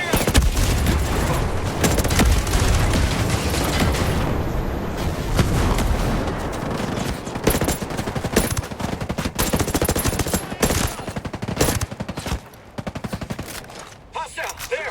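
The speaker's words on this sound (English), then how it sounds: "Well, watch out for mortars. Yo, mortars, clear out." Mortar and heavy gunfire in Ghost Recon Breakpoint keep up a dense, continuous barrage of rapid shots and booms throughout, loud and close, easing off only near the end.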